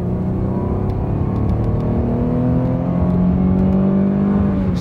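An old Chevy car accelerates hard down a small drag strip, its loud engine roar climbing steadily in pitch as it pulls, close and continuous with a faint rattle underneath.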